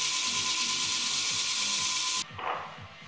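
Reclaimed wood plugs turned on a lathe and sanded: a steady high-pitched whirring hiss with a faint rhythmic rumble beneath, cutting off abruptly near the end to a quieter lower spin-down; moderately faint and close.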